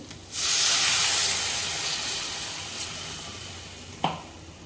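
Ground masala water hits a hot pan for an egg curry and bursts into a loud steaming hiss that slowly fades. A single clear clink of a utensil sounds near the end.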